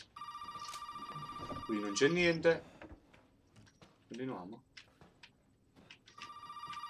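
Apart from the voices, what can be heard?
telephone ringing in Resident Evil 7 video game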